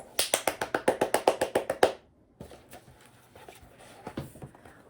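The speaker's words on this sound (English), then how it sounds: "Everybody clap your hands." Children clap their hands during a story time, a quick run of about fifteen sharp, evenly spaced claps that stops abruptly, followed by quiet room noise with faint scattered taps.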